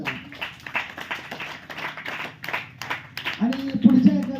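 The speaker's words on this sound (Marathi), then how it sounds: "त्यांचे टाळ्या वाजवून स्वागत करा" An audience claps in welcome at a gathering of a Warkari education institute, a steady patter of many hands running throughout, with voices and a louder spoken or sung phrase rising near the end.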